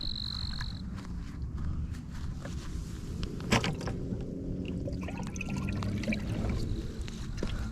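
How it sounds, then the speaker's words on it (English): Water splashes and trickles into a container while minnows are collected as Oscar bait, a soft continuous liquid pour with faint sloshing and one sharper splash midway, fairly quiet and without speech. "Fill up some water."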